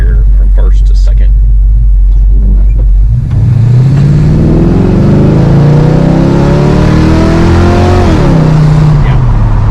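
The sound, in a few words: 1969 Hurst Olds car accelerating, shifting first to second gear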